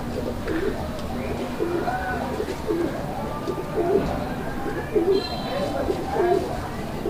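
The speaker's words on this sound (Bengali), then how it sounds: "নরকবুতরটা এইটা" A male domestic pigeon coos in repeated low, rolling phrases at a steady pace, close by, with people talking quietly in the background.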